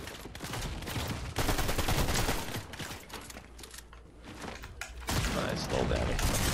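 Rapid bursts of gunfire in a solo Fortnite video game fight, loud clustered shots with a brief lull and then renewed heavy firing, while a player talks over it.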